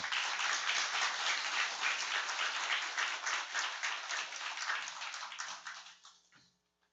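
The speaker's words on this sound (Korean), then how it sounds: "우리 장로님 모시도록 하겠습니다. 뜨거운 박수로." A church congregation gives warm applause to welcome an elder at a Wednesday evening service, a full, even patter of clapping that fades away toward the end.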